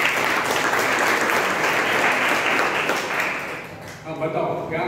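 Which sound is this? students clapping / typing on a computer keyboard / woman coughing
students clapping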